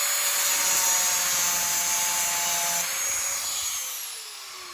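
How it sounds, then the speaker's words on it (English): An angle grinder cuts off a protruding clamp during fuel line work on a VW Cabriolet Mk1. It gives a loud, steady high whine with a rough edge, then spins down and fades near the end. "I'm gonna grab a grinder and I'm gonna cut that off"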